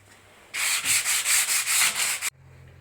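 Steady back-and-forth scraping of sandpaper smoothing fiberglass mesh and filler on a hard wall surface, close and loud, in rhythmic strokes for nearly two seconds before stopping abruptly.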